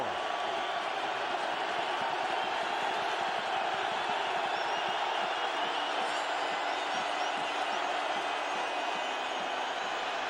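Loud, sustained roar of the home crowd at the Minnesota Vikings' stadium during the 2008 NFC Wild Card playoff game against the Philadelphia Eagles, a steady dense wall of cheering throughout with faint talk underneath.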